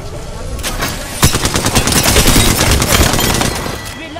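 Loud automatic gunfire in Apex Legends, a sustained rapid burst of closely spaced shots lasting a few seconds, close and dominant with no talk.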